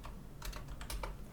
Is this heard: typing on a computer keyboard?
yes